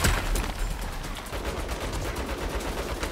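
Gun turrets in the video game Saints Row spray rapid automatic fire, a dense unbroken rattle of shots that runs loud and close from start to finish.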